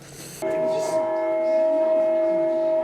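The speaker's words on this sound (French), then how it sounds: "Pourquoi ça sonne les cloches là?" A church bell in a French town rings out unexpectedly, a sustained, resonant tolling tone that starts abruptly and keeps humming steadily, moderately distant, with faint voices around it.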